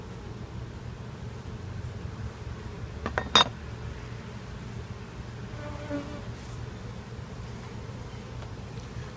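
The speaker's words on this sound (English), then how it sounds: "I am going to give them a bar to work on" Honey bees buzzing around hive frames after a hive split, a steady low droning hum under faint handling clicks and a brief metallic knock near the middle.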